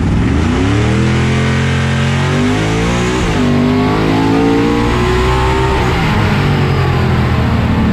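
A supercharged Hemi G-body drag car roars at full throttle through a drag strip pass, its loud engine note climbing through gear changes then easing as the throttle lifts, close and continuous with no talk.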